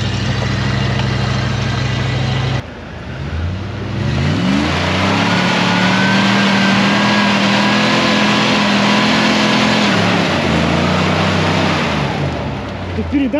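GAZ-66 truck with arched wheels straining under load, its engine revving hard and steadily at close range while trying to pull away, the roar dipping briefly before surging again.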